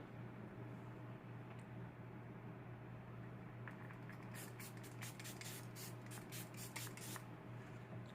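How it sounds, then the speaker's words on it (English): A Press and Refresh setting spray mists onto a face during makeup application, heard as a quick run of faint, soft spritzes close by, about eight in a row, over quiet room hiss. "next I'm going to go in with the Press and Refresh setting spray"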